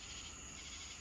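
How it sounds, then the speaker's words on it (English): Night chorus of crickets, cicadas and tree frogs around a deck at an off-grid glampsite in the Uwharrie Mountains, a steady dense high-pitched trill droning continuously without pause. "Listen to the crickets and the cicadas and the"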